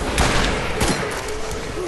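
Grenades going off in the Borderlands video game, a dense barrage of loud overlapping blasts and crackling bursts packed into two seconds, with game effects sweeping underneath.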